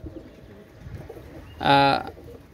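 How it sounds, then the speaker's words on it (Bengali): Pigeons of the Saki group kept for sale give a single short, close coo that rises briefly above a low, murmuring background. "এইগুলো সাকি গ্রুপের কবুতর"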